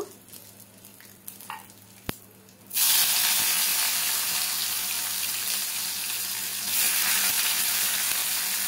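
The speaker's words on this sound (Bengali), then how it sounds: "তো পেঁয়াজটাকে আমি খুব ভালো করে ভাজা ভাজা করে নেব।" Onions hit hot oil with bay leaf and whole spices, bursting into a loud, steady sizzle after a few quiet kitchen knocks, then holding a continuous close frying hiss.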